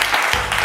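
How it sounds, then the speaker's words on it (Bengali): Families clap loudly together at a Family Number 1 game show held in the Nagerbazar store, a brief dense burst of applause filling the space. "হাততালির আওয়াজে আমরা বুঝে যাব কতজন রয়েছেন, আর জোরে হাততালি হয়ে যাচ্ছে"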